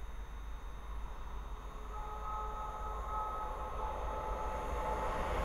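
A pair of London Northwestern Railway Class 350 electric trains passes on the West Coast Main Line at Linslade, heard as a quiet, distant, steadily building rumble with faint whining tones.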